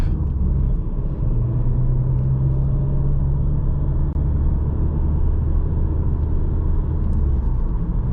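2020 Audi A3 Sportback accelerating on a night drive, a loud, continuous low rumble of engine and road noise from inside the cabin.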